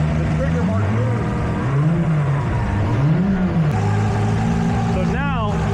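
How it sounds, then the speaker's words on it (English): A Toyota Supra engine revs up and settles back in a few rising and falling swells over a steady idle, with someone talking over it. "So if I give it rev, any type of RPM, the trigger mark moves."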